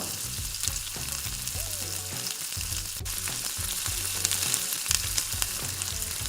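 Onions sizzle and fry steadily in hot oil with crackling spatter and occasional stirring clinks, the cooking noise continuous and fairly loud with no talk.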